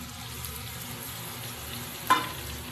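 Spices and prawns cook with potato, pointed gourd and pumpkin in a pan, giving a low, steady frying hiss. A single brief scrape or stir sounds near the end.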